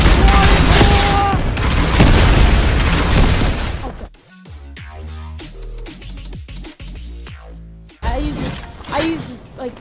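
Bursts of gunfire from the Fortnite video game fill the clip, with dense loud shots and booms at first, then scattered sharp shots, and loud firing again near the end.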